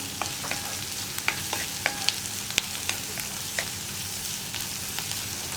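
An onion mixture is stirred in a frying pan for bread samosa filling, with a soft steady sizzle and a series of sharp spoon scrapes and taps against the pan.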